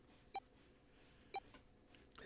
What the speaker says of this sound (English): His bracelet gave a cold electronic beep.